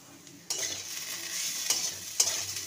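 Bitter gourd and potato with green chili sizzle in hot oil in a pan, a steady hiss broken by a few sharp spatula scrapes and stirs, close and without talk.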